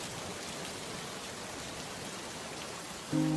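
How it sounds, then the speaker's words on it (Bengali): Steady rain falls in a dense, even hiss, with no voices, until a brief louder sound cuts in at the very end. "আহ, কতদিন পর বৃষ্টি হচ্ছে"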